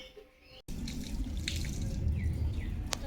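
Rice gets washed by hand in water, sloshing and splashing close up in a steady burst after a brief quiet start, with a short clink near the end.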